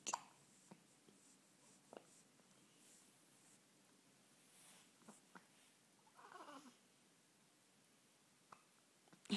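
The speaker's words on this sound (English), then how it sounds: "Do you have the hiccups?" A small child hiccups softly several times at irregular intervals, close by in a quiet room, with faint rustling between the hiccups.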